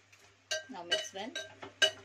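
Curd and chicken are mixed in a bowl with a spoon, producing a few close clinks and scrapes of utensil against the dish in an irregular rhythm, with a faint voice in the background.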